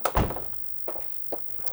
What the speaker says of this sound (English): Let me shut this door so that you can get a contrast